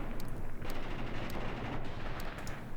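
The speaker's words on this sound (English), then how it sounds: "So I'm just waiting for the artillery strike to finish." An artillery strike lands in the war game Graviteam Tactics. Distant explosions and cracking reports sound in an irregular series over a dense, continuous rumble.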